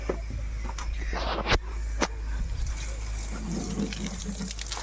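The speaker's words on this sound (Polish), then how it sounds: "Że włączyłam wodę." Tap water runs steadily while horse grooming brushes are washed, a constant splashing hiss with a couple of brief sharp knocks early on.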